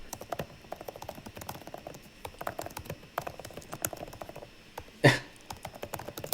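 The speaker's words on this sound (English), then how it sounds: "ASMR of keyboards typing." Keyboard typing, a steady run of quick, light key clicks close by with a few louder strikes, the patter continuing without pause and no voices.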